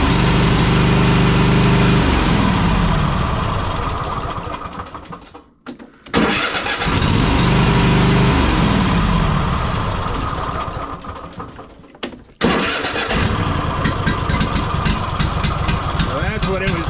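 A Kohler 7000 engine cranks and fires up, then runs steadily on choke with a loud low rumble, cutting out briefly twice before catching again; a voice talks over it.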